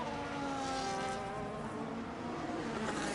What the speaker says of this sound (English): you have the sweet sounds of engine noises